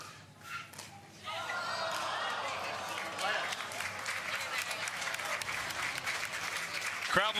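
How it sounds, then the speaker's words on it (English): Spectators at a professional pickleball doubles match in Newport Beach break into sustained applause that starts after a brief pause and holds at a steady level. A commentator talks over the clapping. "Crowd loves the effort, but Dazan clearly frustrated."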